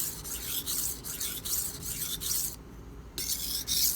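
Steel knife blade sharpened on a DMT diamond plate, a steady gritty rasping of repeated strokes, close and continuous with brief pauses between passes.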